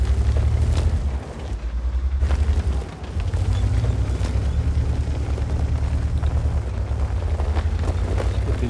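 In a tank video game, the IS3a's main gun fires with a heavy, booming blast. The deep roar swells and fades across the clip, with a sharp dip near the middle and a low rumble carrying on afterward.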